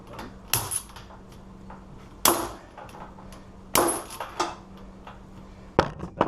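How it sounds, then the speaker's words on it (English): Sharp metallic clangs of a hammer striking an ABUS Rock 83/55 padlock, five or six hard, ringing impacts spaced irregularly over a few seconds, close and loud against a faint background hum. "we're hitting it right here, trying to get it to break that bearing"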